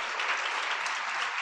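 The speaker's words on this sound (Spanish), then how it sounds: "Yo creo que los aplausos son para el Señor" Audience applause at a church gathering, a steady dense clatter of many hands clapping at once, loud and even for the whole short stretch.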